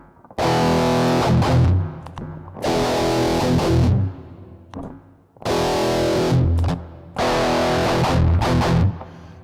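Heavily distorted electric guitar played through an effects pedal with no IR loader, in four loud strummed chords, each ringing about a second and a half, with short gaps of silence between them.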